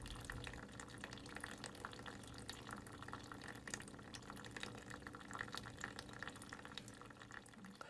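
Steady, thin stream of water running continuously from a tap during a physics demonstration on dielectrics, a soft even hiss and trickle with no talking.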